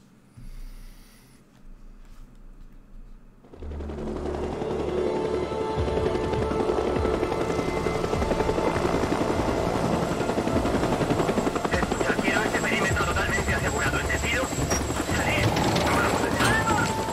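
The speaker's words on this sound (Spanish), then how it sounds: "Un helicóptero, tío." Helicopter from the video game Days Gone flying overhead, its rotor roar rising sharply after a quieter start and then holding loud and steady throughout.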